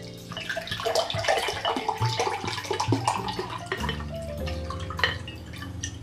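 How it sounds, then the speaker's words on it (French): Water pouring from a tap into a container for making cane syrup, a steady close splashing stream that deepens in tone as the vessel fills, with a few drips near the end and no voices. "On remplit donc notre tine d'eau."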